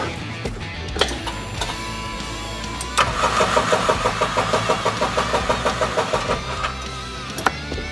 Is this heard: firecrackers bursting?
no